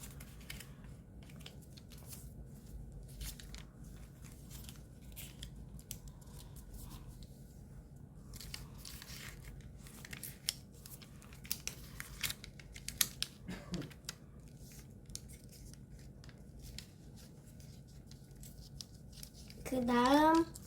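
Paper folded by hand into a ninja spinning top: soft, scattered creases and rustles with a few sharper crinkles, fairly quiet, ending in a short burst of louder handling, with a voice briefly heard near the end.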